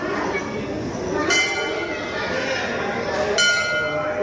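A temple bell at a Shiva temple in Haridwar rings twice with bright metallic clangs about two seconds apart, each decaying over a continuous murmur of crowd chatter.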